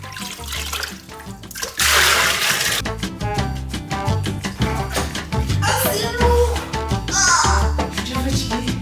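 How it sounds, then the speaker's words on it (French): Stored water poured out for a bucket-style shower in Mayotte during a water shortage, splashing and gushing loudly in uneven surges with brief pauses, close up and with no talking. "il me reste ça d'eau que je vais utiliser pour prendre ma douche"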